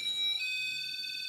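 A portable EMF meter's alarm going off, set off by a hand near it, in a house checked for haunting: a continuous high electronic beeping tone that shifts pitch partway through, steady and fairly loud, with faint low background noise.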